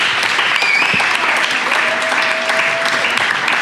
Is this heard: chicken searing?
no